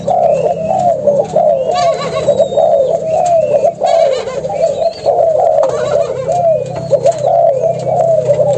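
A pair of Malaysian doves coo in a steady, repeating rhythm, close and clear, with faint chirps from other birds in the background.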